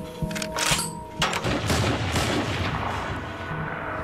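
Sniper rifle fire in a Walking Dead episode: a few sharp, loud gunshots in the first second and a half, then a long rumbling, echoing wash of noise, with no talk.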